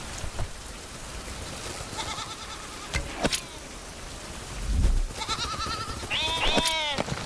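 Goats on an island in the 16th-century survival video game Survival: Fountain of Youth give a few scattered bleats, the clearest wavering cries near the end, over a soft patter of rain and occasional thuds.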